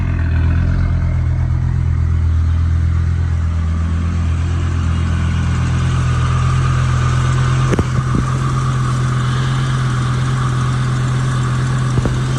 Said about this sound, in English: I think it's got a minor exhaust leak.